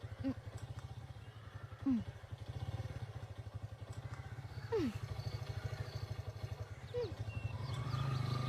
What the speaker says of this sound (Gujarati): અરે બાઇક ચાલુ થઈ ગઈ